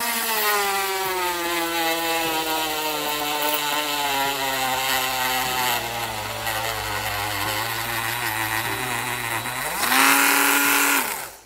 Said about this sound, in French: légèrement percer la vis pour pouvoir y frapper un embout torx ou allen